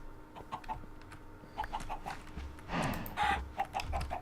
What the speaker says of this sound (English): I have plenty of chickens